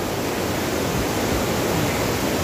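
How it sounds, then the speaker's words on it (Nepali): A waterfall on a mountain trek roars as a dense, unbroken rush of water, close and loud, with no voices over it. "कस्तो बवाल झर्ना भयो यार"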